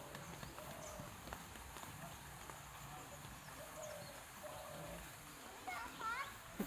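A horse moves about and eats, with faint clip-clop hoof sounds and shuffling over a quiet, distant outdoor background, a few light knocks and a brief squeaky sound near the end.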